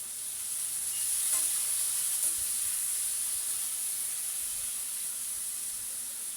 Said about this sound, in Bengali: একেবারে নুন হলুদ দিয়ে আলুটাকে লাল লাল করে ভাজবো।